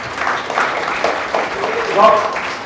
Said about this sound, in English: Could we give a big round of applause?